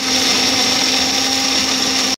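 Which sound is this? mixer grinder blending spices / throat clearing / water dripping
mixer grinder blending spices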